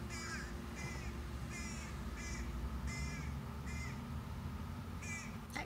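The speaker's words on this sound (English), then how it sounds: "That crow's got a lot to say." A crow caws repeatedly, about seven harsh calls spaced fairly evenly over a steady outdoor background hum.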